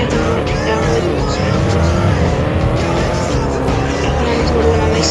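A car races at high speed in a driving simulator game, with a loud, continuous engine roar and repeated tire squeals and skids throughout.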